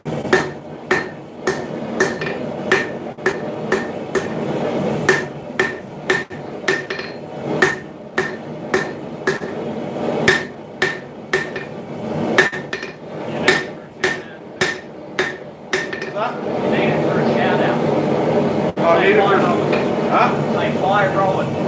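Metal is hammered on an anvil during a forge weld, with loud, sharp ringing blows at an irregular, quick rhythm that fall silent near the end, while a person talks in between the strikes.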